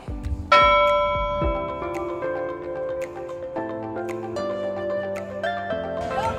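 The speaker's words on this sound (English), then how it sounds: "Ring the bell." Bright metallic clangs from a bell rung at the finish of a Spartan 5k obstacle race in Killington, Vermont, several struck notes ringing on and overlapping, loud and near with long shimmering decays.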